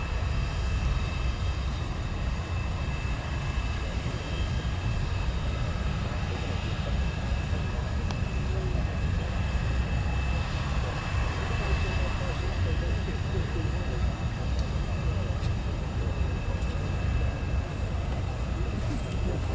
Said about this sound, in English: taxi to the very end, turn around, come shooting down the runway.